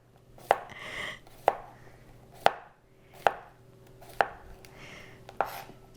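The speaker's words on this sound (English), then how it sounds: "So I'm going to cut the cucumber in half just to make it easier. And I'm going to slice it pretty thin." Knife slicing cucumber on a cutting board, six sharp, distinct chops spaced about a second apart, each with a crisp knock on the board, close and clear with no talking.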